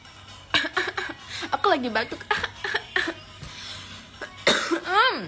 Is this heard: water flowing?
no